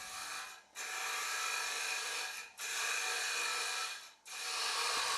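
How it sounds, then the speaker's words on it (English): A titanium nitride coated mushroom cutter hollows the inside of a wooden bowl on a lathe, making a loud, steady scraping rasp in three long passes separated by brief pauses. "We have now changed to the titanium nitride coated mushroom cutter to hollow the inside of the bowl."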